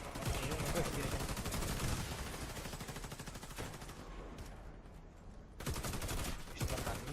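Video-game gunfire rings out in rapid bursts, dense and loud through most of the stretch with a brief lull before resuming, while players talk over it.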